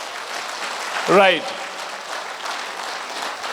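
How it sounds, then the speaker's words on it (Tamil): Audience applause at an entrepreneurship event in Tiruppur, a steady broadband clapping that runs throughout, with someone briefly speaking a single word over it partway through. "மக்களுக்கு எல்லோருக்கும் ஒரு கைத்தட்டல் நீங்க கொடுத்தே ஆகணும்"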